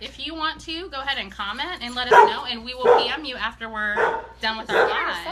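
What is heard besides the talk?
dog barking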